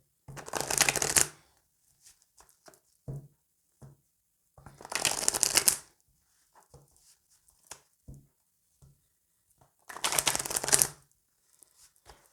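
Oracle cards shuffled for a tarot reading, three brisk riffling bursts close to the ear, separated by quieter gaps holding only a few soft taps and card handling.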